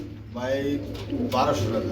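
A pair of black Mukhi pigeons coo in low, rolling calls close by, mixed with a person talking.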